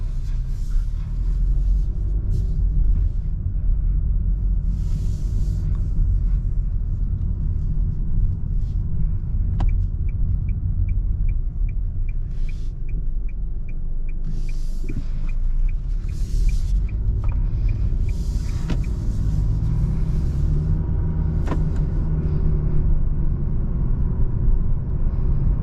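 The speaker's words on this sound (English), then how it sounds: "driving this 2022 Nissan Sentra drives nice and smooth and nice and comfortable" Cabin of a 2022 Nissan Sentra SV driving on the road: a steady, loud low rumble of engine and road noise fills the interior throughout, with no talking.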